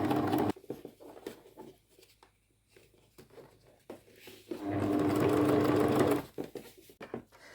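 A sewing machine stitches fabric piping in short runs, a faint rapid whirring in bursts with pauses and handling noises between, then one longer steady stretch of stitching.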